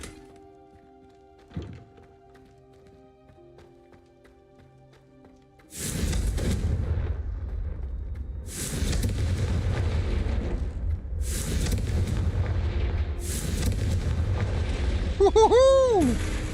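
Confringo spell explosions in the Hogwarts Legacy video game, a sudden deep boom followed by a sustained rumbling battle din with repeated blasts and rising magical whooshes near the end.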